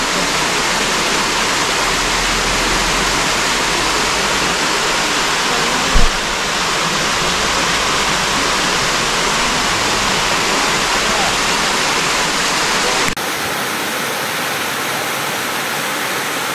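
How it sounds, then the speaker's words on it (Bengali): Small stepped waterfall at Vattakanal Falls in Kodaikanal, a steady close broadband rush of falling water, loud and continuous throughout with one brief bump, dropping slightly in level near the end. "ভীষণ সুন্দর ছোট্ট একটা জলপ্রপাত।"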